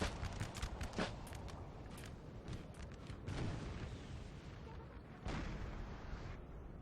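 Artillery and musket fire rolls across a Napoleon: Total War battle at Austerlitz, a dense continuous barrage of booms and crackling shots, with louder bursts near the start, around three seconds and again past five seconds.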